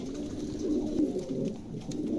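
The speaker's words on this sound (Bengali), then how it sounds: "চমৎকার একজোড়া কবুতর" Pigeons coo softly and steadily at close range, their low throaty murmurs rolling on without a break.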